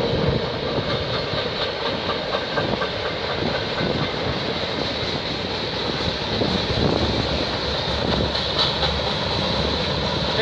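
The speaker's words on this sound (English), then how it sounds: "This is a big, big train" A long freight train rolls steadily past nearby, with continuous rumbling and rhythmic clickety-clack of wheels over rail joints throughout.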